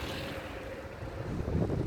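Hurricane-force wind of about 25 m/s blows around wind turbines, a loud, rushing roar with buffeting gusts against the microphone.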